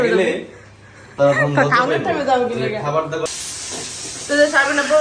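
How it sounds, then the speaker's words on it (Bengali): Hilsa fish frying in a small wok gives a steady sizzling hiss that swells partway through, mostly under a woman's and a man's conversation. "এখানে মাছ ভাজতেছে ইলিশ মাছ"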